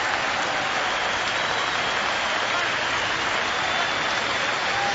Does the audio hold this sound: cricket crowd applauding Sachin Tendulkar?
yes